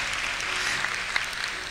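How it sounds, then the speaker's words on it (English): Short burst of audience applause at a science fiction convention masquerade, a steady crowd of clapping hands at moderate level with a few sharper individual claps. "let's go out here for a brief applause"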